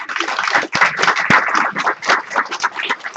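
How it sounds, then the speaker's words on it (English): An audience claps at a university lecture, a dense, steady burst of close, crisp handclaps lasting a few seconds with no talking over it. "Please, one round of applause too."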